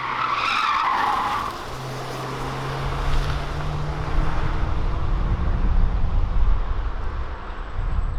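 A 2020 Hyundai Sonata midsize sedan sweeps through a sharp turn, its tires skidding and scrubbing with a rising rumble of road and engine noise that stays loud throughout.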